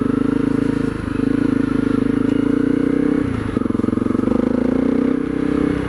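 Honda CRF250L motorcycle with an FMF Powercore 4 exhaust and quiet core insert, a steady, loud thumping engine note held close throughout, with brief dips and throttle blips around the middle.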